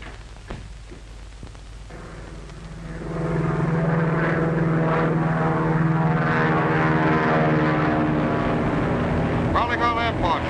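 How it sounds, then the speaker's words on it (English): A brown high-wing monoplane, number 12H45, flies overhead in a steady propeller drone that swells and stays loud, with a voice speaking over it at the start. "Be on lookout for brown high-wing monoplane, number 12H45. Say, that's the one that just flew over here."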